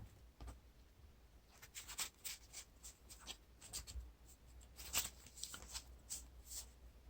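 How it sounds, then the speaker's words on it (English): Deck of cards for a Lord of the Rings card game being shuffled, faint close riffling and soft papery flicks in repeated bursts, no speech. "Shuffle your deck."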